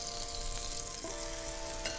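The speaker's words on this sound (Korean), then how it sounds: "어느 정도 이렇게 갈색이 나게 구워지면은 고기를 옮겨주세요" Meat browns in a pot during a cooking class. It makes a steady, dense sizzle and fry with a faint stir or scrape near the end, close and continuous, with no talking.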